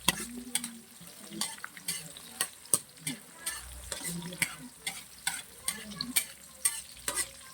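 Tomatoes frying in a pan, a soft sizzle under a rhythmic series of scraping stirs at a close, moderate level, with no talking.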